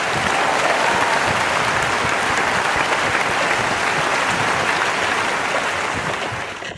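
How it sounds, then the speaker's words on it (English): Loud, continuous crowd applause in the mobile game Goat Simulator Mobile, a dense wash of clapping that holds steady for several seconds before tapering slightly at the end. "Everybody clap."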